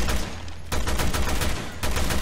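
Rapid, dense gunfire in the video game Resident Evil Revelations 2, loud sustained bursts of repeated shots with a brief lull, heavy and close with no talk over it.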